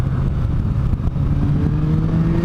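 A motorcycle engine on a mountain road revs steadily under open throttle, a loud, close, continuous drone whose pitch climbs gradually toward high revs.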